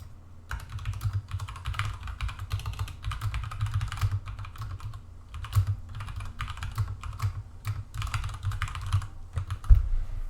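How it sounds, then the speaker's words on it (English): Steady, close-up clatter of keys on a computer keyboard as code is typed, irregular bursts of keystrokes with short pauses, no voices. "So let me actually just type that out."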